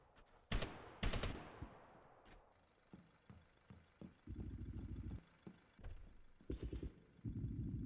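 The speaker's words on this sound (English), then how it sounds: "Lots of bullets being wasted." Gunfire in the Zero Hour tactical shooter during a league semi-final match. Sharp single shots are mixed with sustained automatic bursts, some loud and close and others lighter, in an uneven rhythm of repeated volleys.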